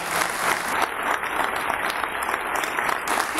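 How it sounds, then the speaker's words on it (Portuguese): An audience at a motivational talk breaks into applause, a full, lively burst of clapping that holds strongly throughout and eases slightly near the end, with no speech. "Uma salva de palmas para ela."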